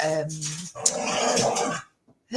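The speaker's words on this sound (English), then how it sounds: "Look, my dogs have started fighting now, so they know I'm doing a video." Dogs scuffle indoors with growls, snarls and whimpers in a close, loud burst that breaks off abruptly.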